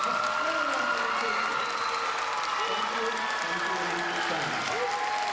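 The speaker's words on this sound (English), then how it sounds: "Let's give these teachers a real round of applause." An audience at a Jersey City public school ceremony gives the teachers a round of applause, sustained dense clapping with crowd noise and some voices mixed in, filling the room continuously.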